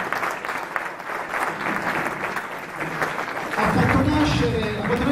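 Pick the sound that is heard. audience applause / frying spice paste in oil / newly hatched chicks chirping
audience applause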